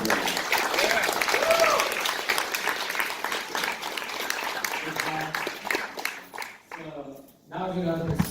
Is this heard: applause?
yes